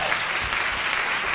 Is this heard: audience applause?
yes